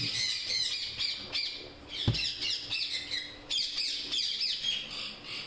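Pet parrots kept indoors squawk loudly and repeatedly, harsh calls in quick irregular bursts close by, with no talking.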